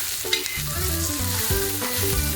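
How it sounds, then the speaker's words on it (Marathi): Onion frying in hot oil with coriander and garlic cloves, a steady close sizzle with light stirring scrapes over a continuous bed of crackle, no talking. "आता त्याच्यावर आपण तेल टाकू कांदा फ्राय करण्याकरता"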